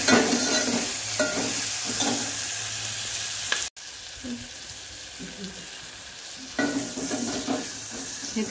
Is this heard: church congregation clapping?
no